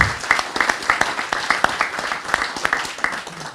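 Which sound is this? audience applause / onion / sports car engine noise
audience applause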